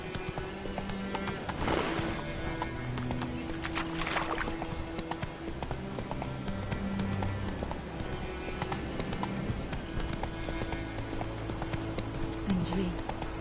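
Roach, the horse in The Witcher 3, gallops with steady rhythmic hoofbeats close by, with occasional whinnies, layered under game music and voices talking.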